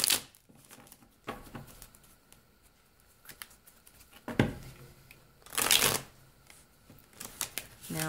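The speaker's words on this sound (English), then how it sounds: "I am having a little bit of a hard time shuffling." Tarot cards are shuffled in several bursts of papery riffling and flapping, close up, with quieter handling between bursts.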